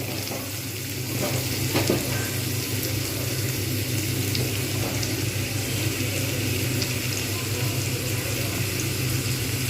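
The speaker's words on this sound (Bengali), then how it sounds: "আলুটা আমি যেহেতু আগে ভাজিনি তাই আমি একসঙ্গে পেঁয়াজের সঙ্গে ভেজে নিচ্ছি।" Potatoes fry together with onions in a pan, a steady dense sizzle with occasional scraping stirs and a low hum beneath, no voices.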